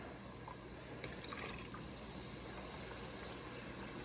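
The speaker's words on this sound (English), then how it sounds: "I don't ever stop pouring either." Salted chicken broth pours steadily into a cooking pot for chicken noodle soup, a soft continuous liquid rush with a brief splashy rise partway through.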